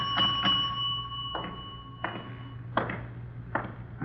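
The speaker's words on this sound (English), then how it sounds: "Nobody at the desk. I'll ring the bell." A hotel front-desk bell struck several times in a radio drama, each ring a clear metallic ding with a lingering tone, spaced irregularly over a low steady hum.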